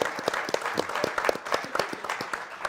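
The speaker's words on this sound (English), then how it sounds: "A big round of applause for Keith Mills" An audience at a Baltimore Ravens event applauds a guest, with scattered, fairly sparse claps in an uneven rhythm at moderate distance.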